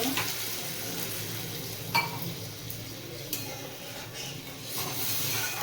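Soybean kofta curry gravy simmering in a pan with sugar and water added, a steady close sizzle and bubbling hiss with occasional clinks, no talking.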